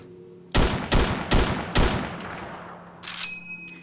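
Four evenly spaced heavy M1 Garand rifle shots in the video game Teardown, loud and close, each with a decaying rumble, followed by the metallic ping of the ejected clip.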